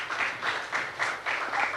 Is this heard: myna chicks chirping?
no